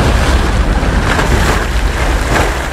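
River water bursting upward in a heavy surge, a loud, sustained, close roar of churning, rushing water with a windy hiss throughout and no voices.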